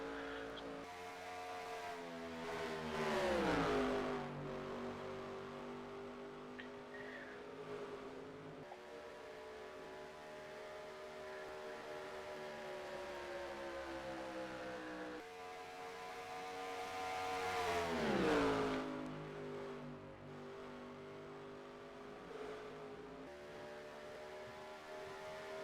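Race cars roar past on an oval track during a NASCAR Busch Series event at Chicagoland, engines rising and falling in pitch as two cars battle side by side, with a louder swell as they sweep by near.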